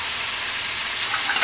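Ground hamburger browning in a pan on the stove, a steady soft sizzle and hiss with a few brief scraping stirs near the end.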